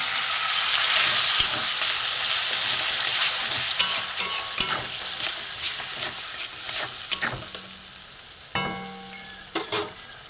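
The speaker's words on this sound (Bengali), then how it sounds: "মশলা দেওয়া জল একটু দিয়ে দেবো আমি।" Spiced water poured into a hot frying pan while cooking a vegetarian young jackfruit dish bursts into a loud, hissing sizzle. The sizzle slowly eases into a gentler crackle, broken by sharp clinks and scrapes of stirring.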